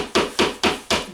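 Four sharp, evenly spaced hammer blows land close by in quick succession, each a bright knock that decays briefly before the next strike.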